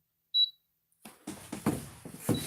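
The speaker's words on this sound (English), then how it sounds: "it's beeping" A brief, high electronic beep sounds once from an induction burner, followed after a pause by a series of clattering knocks and handling noises.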